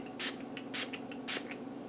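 Three short hissing sprays of cucumber brush cleaner from a pump bottle onto makeup brushes, evenly spaced, close and clear over a quiet background.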